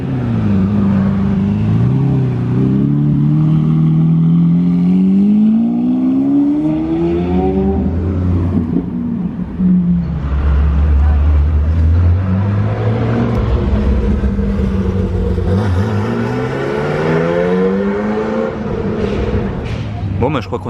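A Lamborghini Aventador engine at a supercar gathering revs loudly in long rising and falling sweeps, two main surges over a steady rumble, with voices talking around it.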